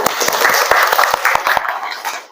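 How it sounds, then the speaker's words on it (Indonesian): Students in a classroom give a short round of applause, a bright, close burst of quick claps with a few sharp individual strikes, fading out after about two seconds. "Tepuk tangan dulu."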